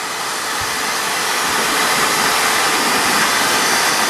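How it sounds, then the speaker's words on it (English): A vacuum cleaner hoovers out a car's diesel particulate filter with a loud, steady, close-up roar that stays constant throughout, with no voices. "Stick it in this end and give it a bit of a hoover out."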